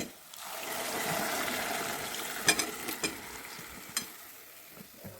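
Cooked beef and masala tipped into a pot and stirred, a steady sizzling, frying hiss with a few sharp scraping clatters of a spoon against the pot, close and fairly loud, no voices.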